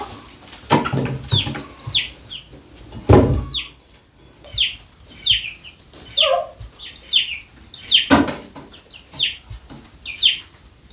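A puffed-up young chicken clucks in a rhythmic series of short, close calls roughly every second, with a few louder thumps and rustles mixed in between.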